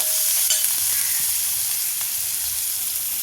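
Kanthari chili and garlic masala for Kerala lemon pickle is stirred in a pan, a steady close sizzle of frying with scraping stir strokes running throughout.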